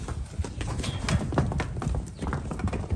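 A donkey's freshly trimmed hooves clip-clop steadily as it runs off at speed, the hoofbeats close and fairly loud with a faint whinny-like call in the background.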